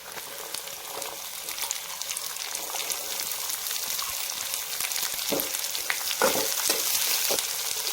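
Onion sautéing in a pan for an onion and peanut chutney, a steady close sizzle with scattered stirring scrapes and a few louder crackling bursts near the end, no voices.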